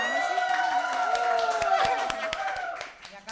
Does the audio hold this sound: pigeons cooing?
no